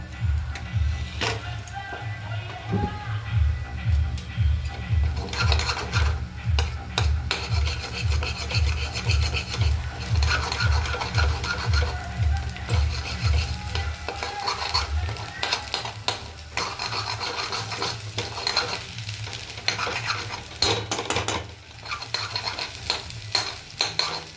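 Chowmein is stirred hard in a pan over a gas flame, the spatula scraping and rubbing in a fast, steady rhythm with a faint sizzle underneath. The sound is close and continuous, with no talking.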